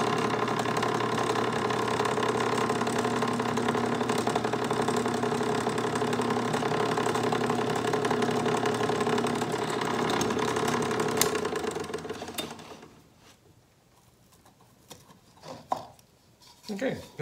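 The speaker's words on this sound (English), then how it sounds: "let me go get all that set up in the drill press. All right, we're just gonna put the six holes in here" A drill press boring bolt holes runs with a steady, loud motor hum and grinding for about twelve seconds, then winds down, leaving a few faint knocks and clatters.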